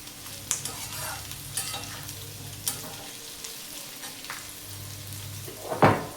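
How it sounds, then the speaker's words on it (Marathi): Garlic sizzles and is stirred in a hot pan for bhendi bharit, a steady close frying crackle punctuated by utensil scrapes and taps, with a sharper clatter near the end. "आता लसूण जरा भाजलं पाहिजे ह्याच्यात चांगलं जरासं."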